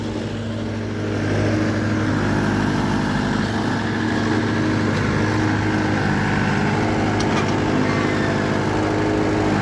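A tractor-mounted excavator attachment on a mini tractor works hard, dry ground, its engine droning loud and continuous with a steady low hum, the pitch and load shifting slightly as it digs, and faint clanks on top.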